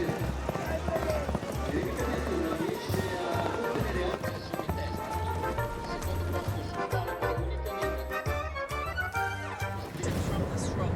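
Rapid rhythmic hoofbeats of horses galloping in an annual horse race in the Italian seaside town of Cervia, mixed with crowd noise and talk, steady and fairly loud throughout.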